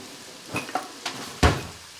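Sliced peppers, onions and garlic tossed into a hot pan and stirred with a spatula, giving a few sharp scrapes and clatters over a soft, close sizzle.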